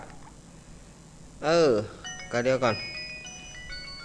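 A mobile phone ringtone goes off during a monk's Dharma talk, with short electronic melodic tones that linger in the background while someone speaks over them.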